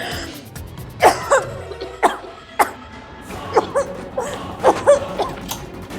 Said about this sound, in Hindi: आपको भी तो आ रही है ना खांसी?